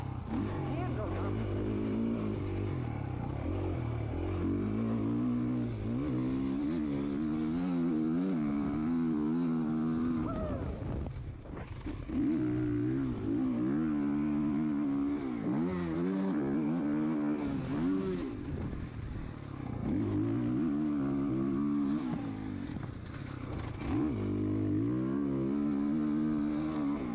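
Motocross motorcycles ride a new dirt track at Lake View Motorsports, engines revving up and down in repeated rising and falling whines, close and loud throughout, with a brief lull midway.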